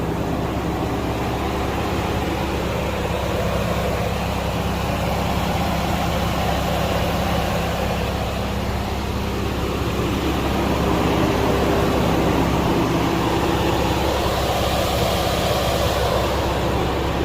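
The 3.5-liter EcoBoost engine of a 2022 Lincoln Navigator Black Label idles steadily up close, a continuous low hum and broadband whir holding at an even level throughout.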